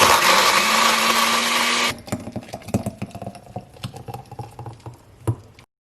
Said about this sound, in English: now we're just gonna go ahead and blend it.